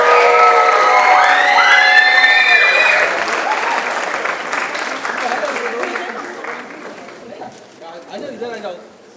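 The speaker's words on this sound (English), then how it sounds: "Come on, ladies and gentlemen, big round of applause." A large audience at a dance event's inaugural ceremony breaks into applause and high-pitched cheers and whoops, loud at first, then thinning and fading as voices talk over the dwindling clapping.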